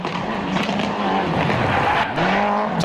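A WRC rally car slides into a corner on a rally stage, its engine roaring under sustained tire skidding and squeal, loud and close throughout.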